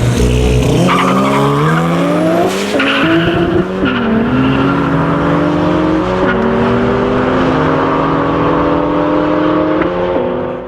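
Street race between a 200SX and an RX-7, engines revving hard with rising and falling gear-change whines and repeated tire squeals and skids, loud and close throughout.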